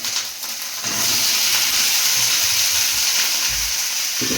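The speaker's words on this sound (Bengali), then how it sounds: "এদিকে কুমড়ো ভাজা হচ্ছে" Pumpkin slices fry in a pan at home, a loud steady hiss and sizzle that swells after a quieter start and runs on unbroken, with no voices.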